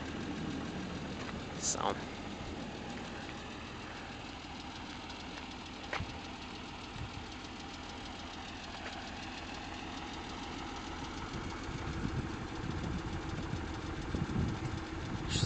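A 1991 Acura NSX with a 5-speed manual and 129,908 miles idles smoothly and evenly, a steady low engine hum up close, with a brief spoken word and a few small clicks.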